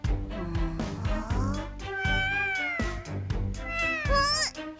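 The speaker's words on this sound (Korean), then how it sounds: "저 나무 뒤에 고양이가 있는데 뭔가 이상해." A cat in an animated cartoon meows repeatedly and loudly up close, a series of drawn-out, wavering cries with a few short ones between.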